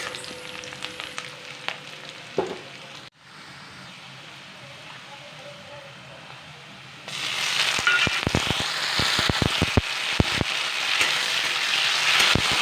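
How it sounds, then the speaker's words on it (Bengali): Onion and tomato frying in a pan for a lentil fritter curry, a steady sizzle that grows louder and busier partway through, with sharp clicks of stirring against the pan. "তো টমেটো পেঁয়াজ দুটোকেই ভালো করে ফ্রাই করে নিতে হবে"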